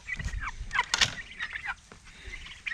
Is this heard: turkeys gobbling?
yes